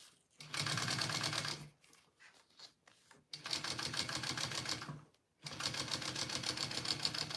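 A sewing machine basting a fabric panel for a bowler bag runs in three fast, even bursts of stitching, separated by short pauses with faint handling clicks, close and fairly loud.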